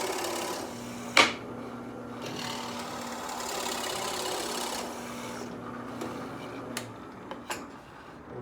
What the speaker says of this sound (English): the new plug that I'm going to make on the drill press.